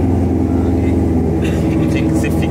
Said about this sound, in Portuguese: Vamos dar uma esquentada nos motores